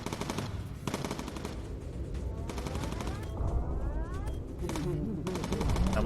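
Bomber turret machine guns fire in repeated rapid bursts in the Bomber Crew video game, loud rattling over a steady roaring engine drone, with sweeping whine-like tones between volleys.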